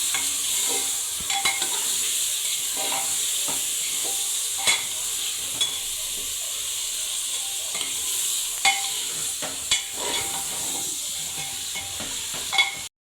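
Mutton frying in a pan while it is stirred: a steady close sizzle runs throughout, broken by scattered clinks and scrapes of the stirring utensil, with no voices.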